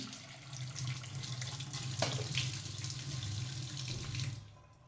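Water runs steadily from a tap into a sink, a continuous close splashing hiss that cuts off at the end.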